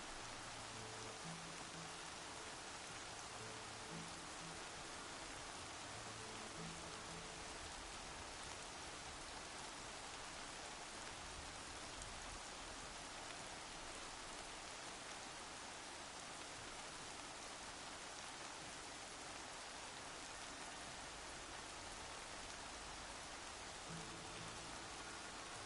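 Steady rain in the video game Horizon Zero Dawn, a continuous even hiss of falling drops with a faint low rumble, constant and unbroken throughout with no voices.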